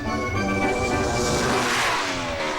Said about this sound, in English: He hits the throttle.